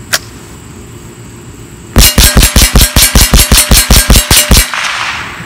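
Fourteen rapid, evenly spaced sharp cracks from a Marlin Model 60 .22 LR semi-automatic rifle firing in quick succession, loud and close, ending in a short hiss of ambient noise.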